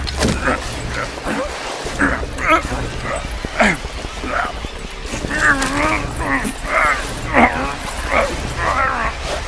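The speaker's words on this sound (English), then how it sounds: "That street dog should have been put down long ago." A street dog in Call of Duty Black Ops Cold War barks, yips and whimpers repeatedly at close range over constant ambient city noise, with no clear talking.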